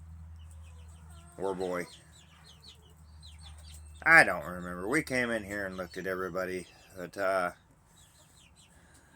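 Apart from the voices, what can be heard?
chickens clucking in a coop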